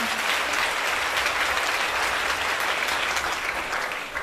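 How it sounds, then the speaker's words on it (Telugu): A church congregation claps loudly and steadily, a dense wash of many hands filling the hall without pause for a few seconds. "Can we give big clap to Jesus?"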